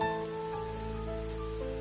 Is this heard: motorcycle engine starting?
no